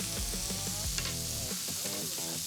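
Shiitake, oyster and button mushrooms fry in beef fat on a flat-top griddle, a steady close sizzle with spatula scraping and stirring through the first half.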